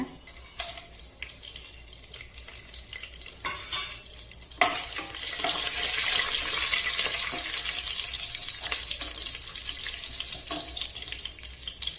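Spices hit hot oil in a pan for avarekalu pulao, starting with light clinks and stirring before a sudden loud, steady sizzle that continues close up, with occasional utensil taps.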